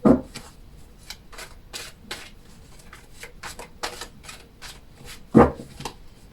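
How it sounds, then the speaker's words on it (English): Tarot cards are shuffled by hand during a reading, giving a quiet series of soft, rapid riffling and flicking bursts at an irregular rhythm, with a couple of sharper taps and no talking. "Just need to shuffle the cards a little bit."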